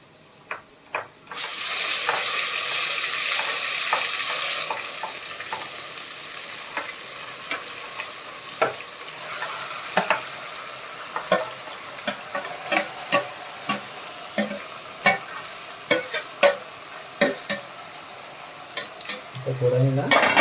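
Mutton dropped into a pan of roasted onion for a village-style Maharashtrian mutton rassa, a loud burst of sizzling frying followed by steady hiss with repeated sharp scraping stirs of a spoon against the pan, no talking.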